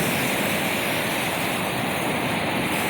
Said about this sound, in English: Waves are starting to build.